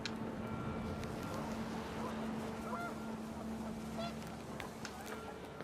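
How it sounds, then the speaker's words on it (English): Panicked geese honk in the video game What Remains of Edith Finch, scattered calls rising over a steady windy ambient bed with a low hum throughout. "The wind picked up and panicked geese appeared and quickly went."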